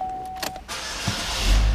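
A Chevrolet Equinox engine starting, with a short starter crank and then the engine catching and settling into a steady, loud idle close by.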